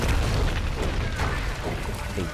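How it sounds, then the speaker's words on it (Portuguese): A bomb blast in the Tomb Raider video game, a deep rumbling boom that fills the whole moment with dense low-end roar, mixed under game noise and a player's voice. "Exato, leva-te com a bomba"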